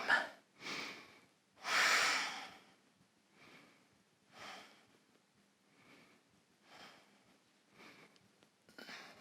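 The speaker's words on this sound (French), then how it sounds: "Et prenez quelques respirations ici pour ouvrir l'avant de la jambe." Slow, audible breaths during a yoga pose, with strong inhales and exhales through the nose and mouth, the loudest near the start and softer, steady breaths repeating afterward, close and quiet.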